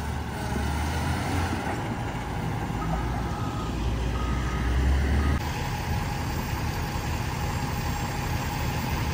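An end dump truck stuck in deep snow at Mammoth raises its bed, its engine running loud and steady with a rising strain, and faint reversing beeps sound in the background.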